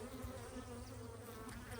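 Honey bees buzz steadily around an open beehive frame with brood and a queen, a dense, continuous close-up drone with no talking.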